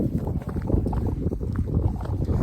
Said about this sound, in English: This video is going to be a tad windy.